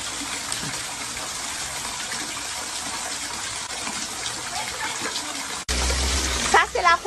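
Floodwater from Tropical Storm Laura rushing in a steady, loud roar in the Dominican Republic, near the Caribbean Sea, with a brief break and then wind buffeting and a voice at the end.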